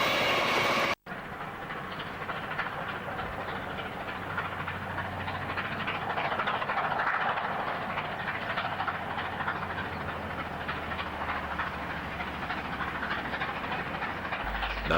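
Steam locomotive 3827 hauls a train in New South Wales, a continuous rumbling roll of carriages with faint rhythmic clatter and hiss, heard from nearby without speech after a brief cut at the start.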